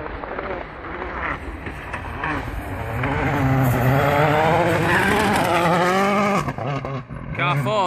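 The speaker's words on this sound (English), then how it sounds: "Last car with Thierry Neuville" A WRC rally car on a forest stage of Wales Rally GB, its engine rising and falling through gear changes as it approaches and blasts past close by, loud and rasping, with spectators talking over it.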